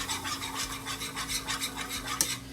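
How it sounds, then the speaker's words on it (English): A whisk scrapes rhythmically through melted butter in a pan, working it into a paste with quick, even back-and-forth strokes, close and fairly quiet, ending with a light clink. "you'll whisk this together because now your butter is melted"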